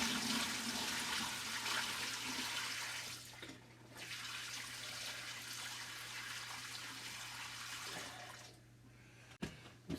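Steaming hot water pours and splashes steadily over Cat 60 engine heads during a soapy Dawn dish-soap wash, broadband and fairly loud, with a brief pause near four seconds and a short break near the end.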